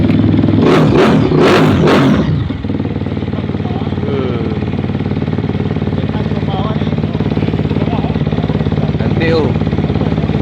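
A motorcycle with a German army bike look revs hard in a few loud, close bursts at the start, then settles into a steady idle, with a brief voice near the end.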